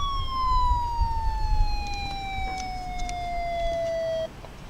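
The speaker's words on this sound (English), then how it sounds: "Fire alarm." An electronic vehicle siren unit sounds its fire alarm tone: one long, loud, steadily falling wail that holds, then cuts off abruptly near the end.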